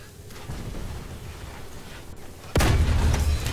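A tank cannon shot in War Thunder, with a T-80BVM or T-80UK in play: a sudden loud, close boom with a broad rumbling blast that hangs on, set over a steady background rumble.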